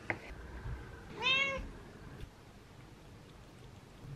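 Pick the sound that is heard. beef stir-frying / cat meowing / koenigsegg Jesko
cat meowing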